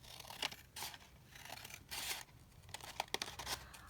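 Paper trimmed straight along its side with scissors: several quick, faint snips and slicing strokes in close succession in a quiet space.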